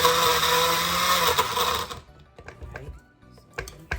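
A blender crushes lemon crumble like ice with a loud, steady whirring grind for about two seconds, then cuts off, leaving faint clattering and knocks of the jar.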